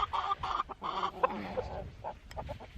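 A rooster clucks in a backyard chicken coop during chores, a close run of short, throaty clucks in quick bursts, with scuffling in the background.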